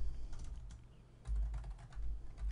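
Bursts of typing on a computer keyboard entering values into a spreadsheet, quick clustered key clicks close to the microphone with low background rumble and no speech.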